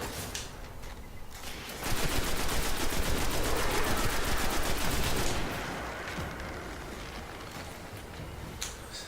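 Rapid automatic weapon fire from the video game Destiny rattles in one continuous loud burst lasting about three and a half seconds, with quieter game ambience before and after.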